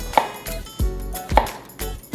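Knife slicing peeled patola (sponge gourd) crosswise on a board, four crisp chops in an even rhythm, each cut close and distinct with brief pauses between.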